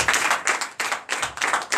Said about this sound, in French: Donnez de vive acclamation à l'Éternel.